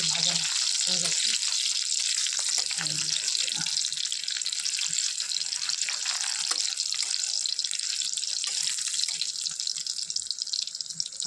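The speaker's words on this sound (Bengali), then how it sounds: "কাঁচা লঙ্কাটা সুন্দর ভাজা হয়ে গেছে।" Green chillies fry in a hot pan with oil, giving a steady, loud sizzle and crackle that carries on without a break.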